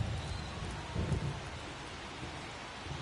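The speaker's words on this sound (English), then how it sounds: "This rain is not letting up." Steady rain falls on a baseball stadium in MLB The Show 24, a constant dense hiss with faint low rumbles, close and even throughout.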